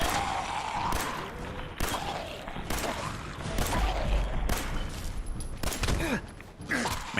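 Gunfire in Fallout 4 sounds as a series of sharp, fairly loud shots spaced through the passage, mixed with mechanical clanks and game effects, with no talking.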